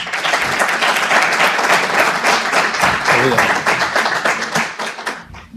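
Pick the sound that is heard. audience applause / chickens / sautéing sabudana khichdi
audience applause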